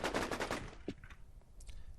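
Rapid automatic gunfire from the online shooter War Inc. Battlezone, a dense burst of shots in the first half second followed by scattered fainter game noises.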